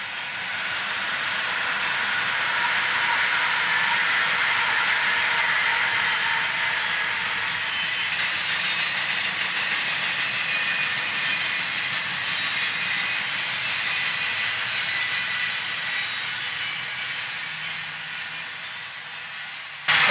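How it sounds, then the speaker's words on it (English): Train rolling past at close range, a broad sustained rumble and roar lasting about twenty seconds that swells slightly and then holds steady, with a faint tonal line near the start but no clear distinct whistle blast. "all of a sudden I hear a train whistle, a very loud train whistle"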